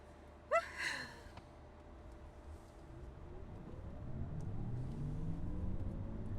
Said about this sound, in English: I do like the electric sport sound.